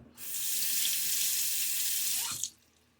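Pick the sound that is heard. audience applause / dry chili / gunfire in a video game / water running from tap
water running from tap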